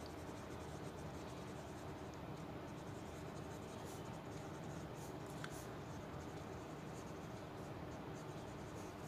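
A Lotus Vikrant fountain pen writing on plain photocopy paper: a soft, continuous, faint scratching of a smooth nib across the paper, steady throughout with no pauses.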